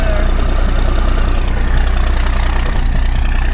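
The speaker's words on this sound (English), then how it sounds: "No more muffler in that thing, so it's pretty loud." A 5-ton military truck engine with a blown-out muffler and straight pipe plus a loud turbo, running as a steady, loud, rumbling idle with constant knocking pulses close by, without a break for the whole stretch.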